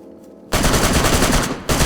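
Rapid automatic gunfire from a DayZ video game bursts in loud and close after a quiet start, runs as a dense sustained volley, breaks briefly, then resumes.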